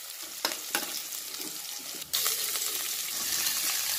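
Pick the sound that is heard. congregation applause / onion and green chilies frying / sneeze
onion and green chilies frying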